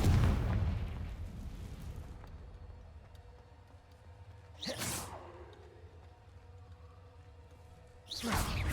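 Confringo spell cast in the video game Hogwarts Legacy during a dragon battle: a loud opening blast fades into a rumbling tail, and two sharp whooshing bursts strike about four seconds apart.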